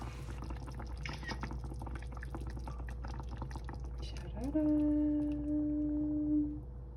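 A faint, steady trickle of water from a household fixture runs quietly in a room, followed by a sustained electronic tone near the end.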